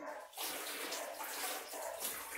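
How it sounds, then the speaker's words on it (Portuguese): Water from a kitchen tap runs steadily over a sponge being rinsed, a continuous broadband splashing hiss that stays loud and close with slight surges as the sponge moves under the stream. "E aqui eu vou lavando a esponja ali embaixo da torneira."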